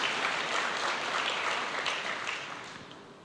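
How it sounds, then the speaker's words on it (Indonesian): Church congregation bursting into hearty applause during a sermon, a dense, steady wash of clapping from a large crowd that slowly tapers off. "Berikan tepuk tangan yang meriah buat Tuhan."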